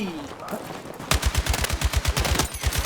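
Automatic gunfire in the video game Battlefield 6: after a quieter second of background game sound, a loud, rapid, evenly spaced burst of about fifteen shots rings out close by.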